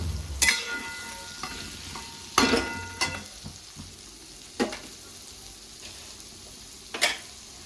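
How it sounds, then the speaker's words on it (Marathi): Boiled amla (Indian gooseberries) are sautéed in a pan while making sweet-and-sour gooseberry pickle, with a soft background sizzle broken by several sharp clattering stirs and scrapes spaced a few seconds apart. "आता ह्याच्यातच आपल्याला जे उकडलेले आवळे होते और वाफवलेले आवळे होते ते टाकून घ्यायचे आहेत आणि त्या आवळ्यांना छान असं परतून घ्यायचं आहे"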